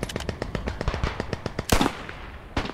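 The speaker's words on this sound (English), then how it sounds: "Got these automatic weapons." Automatic weapons fire in the video game Beyond The Wire: rapid, loud bursts of closely spaced shots in a steady stuttering rhythm, with a heavier blast near the end.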